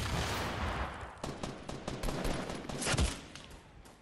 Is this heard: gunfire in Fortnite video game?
yes